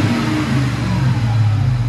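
A 2008 Ford F150 pickup with a 5.4L Triton V8 and Flowmaster Flow FX dual exhaust holds a loud, steady, deep exhaust rumble at close range.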